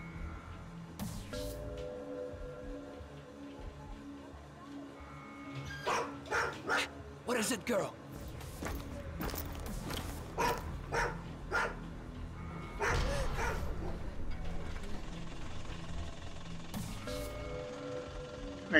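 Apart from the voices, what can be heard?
dog barking in The Road 66 video game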